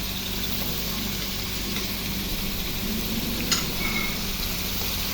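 Chicken and pineapple chunks frying in a pan for a creamy chicken dish, giving a steady, moderate sizzle with faint stirring and a brief clink partway through, no talking.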